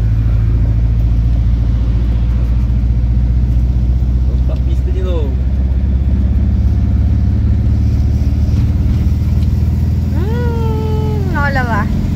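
Volkswagen Kombi van engine straining on an uphill climb, a loud steady low drone running the whole time with faint higher whining tones drifting in partway through.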